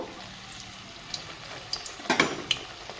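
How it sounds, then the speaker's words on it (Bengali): Pea-filled kochuri puri frying in hot white oil in a wok, with a soft steady sizzle and a few louder bubbling crackles near the end, no voices. "সুন্দর করে আমি ভেজে নিব"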